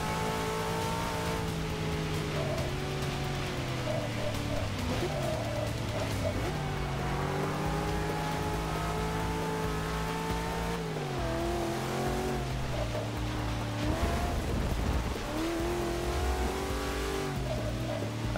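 Racing car engine at Le Mans in Forza 6 during a rain race, loud continuous revving with gear shifts rising and dropping in pitch, plus brief tire squeal, dominating throughout with little talk.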